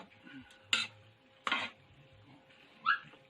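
Macaroni stirred in a pot gives three separate scraping, clinking strokes spaced about a second apart, close and fairly quiet against a near-silent background.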